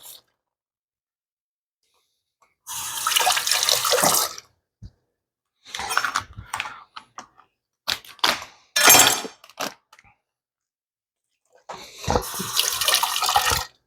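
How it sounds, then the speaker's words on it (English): Running tap water rinsing swai fish fillets, in several separate bursts of splashing flow with silent gaps between, close by and without talk. "I like to give it a quick rinse."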